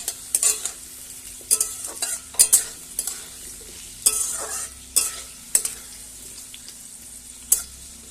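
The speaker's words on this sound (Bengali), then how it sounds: "আমাদের আলুগুলো তো এবার ভাজা হয়ে গেছে" Potatoes fry in hot oil under a low sizzle, broken by repeated sharp stirring scrapes of a spatula against the pan at irregular intervals, close up with no talking.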